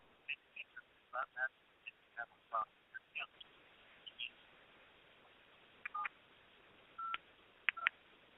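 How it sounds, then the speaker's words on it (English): A telephone keypad beeping as a phone number is dialed, a series of short, distinct tones pressed one after another at an uneven pace, thin and clear against near silence. "And now I'm entering in the phone number."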